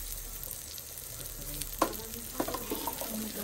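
Butter sizzles and crackles in a pan with a gentle, continuous frying hiss, broken by a few light clinks and stirring knocks near the end.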